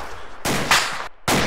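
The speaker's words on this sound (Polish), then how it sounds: "Dobra, stój, bo strzały te nas lecą." Gunfire in the military shooter game Arma 2: loud bursts of automatic rifle fire in two or three close, sharp volleys separated by brief gaps.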